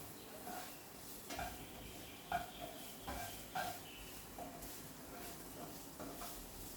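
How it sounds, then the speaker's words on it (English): Onions fry in a pan with a faint, steady sizzle, broken by occasional soft clinks and stirring scrapes of a utensil against the pan. "let that start to fry. Just do a light brown fry with onions."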